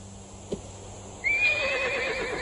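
Duchesse the horse lets out a loud, quavering whinny that rises and falls for over a second, after a brief thump in a quiet space.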